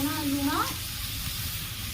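Bitter gourd (karela) fries in a hot pan with a continuous close sizzle and some stirring scrapes. A short burst of a voice sounds at the start, and then the frying goes on alone.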